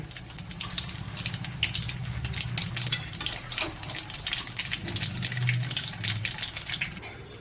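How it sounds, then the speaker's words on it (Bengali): Black nigella seeds crackle and sizzle steadily in hot oil in a pan for mustard hilsa fish, a continuous close frying hiss over a low background hum, with no talking. "এবার এখানে তেলের মধ্যে দিলাম আমি কালো জিরে"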